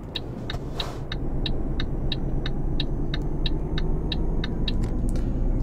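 A simulated truck engine in Euro Truck Simulator 2 at full throttle on the autobahn: a steady, loud low rumble droning continuously, with a regular series of high ticking beeps repeating over it.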